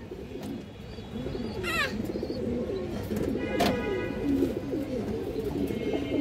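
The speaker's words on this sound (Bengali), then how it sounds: "কালো গলা কবুতরটা দেখেন আপনারা, অনেক সুন্দর একটা কবুতর" A black-necked pigeon coos repeatedly in soft, rolling low calls, close by, with a few brief chirps from other birds mixed in.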